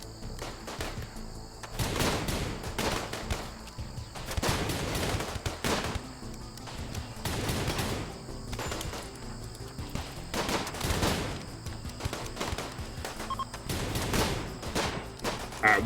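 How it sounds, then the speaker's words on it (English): Rapid bursts of automatic gunfire from an auto turret in the survival video game Chillworld, repeated volleys of machine-gun fire recurring every couple of seconds at steady, fairly loud level with no talk. "The auto turret levels up his shooting."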